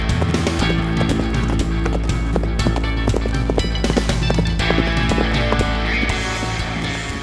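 A horse gallops on a horse race ground with rapid, loud hoofbeats that drum continuously over a busy, steady background.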